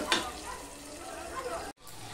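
Yardlong beans and tomato frying in a covered pan give a steady, moderate sizzle, with brief clinks of stirring near the start, a voice talking over it, and a short dropout near the end.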